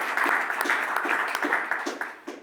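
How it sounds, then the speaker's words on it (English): Audience applause after a panelist is thanked at an expert panel discussion, steady dense clapping filling the room for a couple of seconds before tapering off near the end. "Give him a round of applause here."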